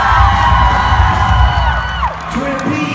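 A concert crowd in Nashville, Tennessee cheers, whoops and shouts steadily and loudly for a band, a dense roar of voices that holds throughout.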